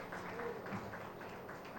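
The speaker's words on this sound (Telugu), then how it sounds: "గోవింద్ గారికి కూడా చప్పట్లు కొడదాం" Audience clapping at an outdoor World Environment Day gathering in a park, a steady crowd patter of hands lasting the whole short stretch, with faint background murmur.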